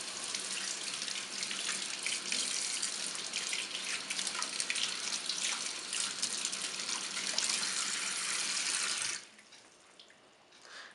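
Water from a kitchen tap runs in a strong, steady splashing rush as a freshly sharpened knife is rinsed, then cuts down to a softer trickle near the end; close by, with no speech.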